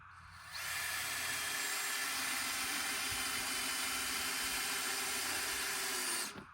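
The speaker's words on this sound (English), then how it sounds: "So we'll put a screw in here to temporarily hold that." A power drill drives a screw into a wooden barn door on a generator shed, whirring steadily for about six seconds before stopping, close and without talk.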